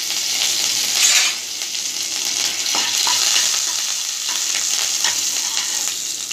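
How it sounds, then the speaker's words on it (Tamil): Curry leaves sauté in hot oil for vegetable rice flake upma, a loud continuous crackling sizzle with occasional stirring scrapes, close and steady with no speech. "கருவேப்பிள்ளையை ஒரு வதக்கு வதக்கிட்டு"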